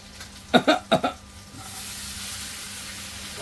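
Chopped bottle gourd is tipped into a hot pan of tempering with ginger-chilli paste and turmeric: a few sharp clattering drops and stirring knocks, then a loud, steady sizzle that builds and carries on to the end.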